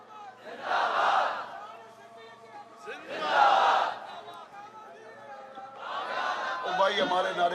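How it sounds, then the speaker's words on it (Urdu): A crowd chants a slogan in three loud rhythmic bursts, each rising and fading, with a single voice speaking in the quieter gaps between them. "او بھائی ہمارے نعرے نہ لگاؤ۔"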